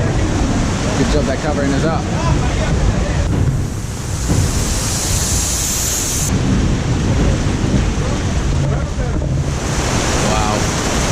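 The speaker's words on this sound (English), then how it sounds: "storms come in." Strong storm wind roars and buffets the microphone over crashing waves at sea, steady and loud throughout, with a person speaking briefly over the din.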